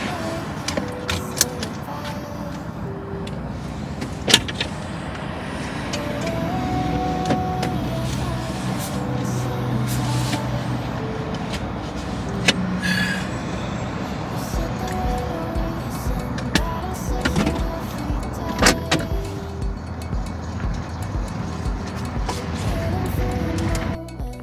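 Camper van rolling down the road, a continuous low road and engine rumble inside the cabin with occasional rattles and clicks, brief voices faintly under the drive.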